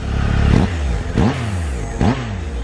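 A 2018 Triumph Tiger 1200 XCA motorcycle engine is revved in three sharp, loud blips at close range, each rising and falling quickly over a steady idle.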